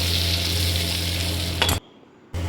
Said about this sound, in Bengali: ওই তেলের মধ্যে কেটে রাখা আলুগুলো ভেজে নেব।